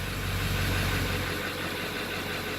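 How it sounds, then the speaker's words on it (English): A 1999 Ford Super Duty truck's diesel engine idles nearby with a steady, low rumbling drone that holds constant without revving. "gotta love that diesel sound, baby"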